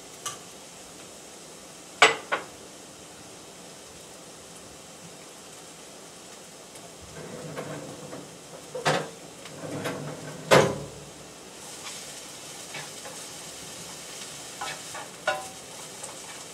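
Bok choy stir-frying in a pan, a soft continuous sizzle under scattered sharp clacks and scrapes from a utensil against the pan, with a couple of louder knocks standing out.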